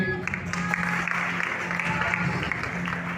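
Congregation clapping steadily throughout a Sunday church service at a prophetic ministry conference, a continuous dense wash of many hands with a low hum underneath, fairly loud and sustained.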